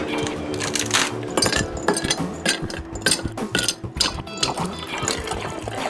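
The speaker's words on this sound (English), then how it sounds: "I'm gonna milk up my coffee." Milk is poured into a cup of coffee in a home kitchen: a close, steady liquid trickle mixed with light clinks of the cup and dishes, with busy kitchen handling around it.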